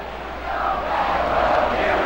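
Baseball stadium crowd in the video game MLB 2K5 during a Cardinals versus Astros game, a steady broad roar of cheering that swells slightly and holds loud throughout, with no voices over it.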